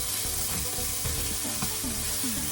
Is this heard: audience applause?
no